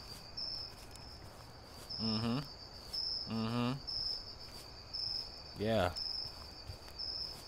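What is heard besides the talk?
crickets chirping at night in the video game Meat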